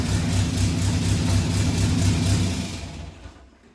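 An Austin Mini engine runs steadily at close range with a harmonic throb as the car creeps forward and backs up, then the sound cuts off near the end.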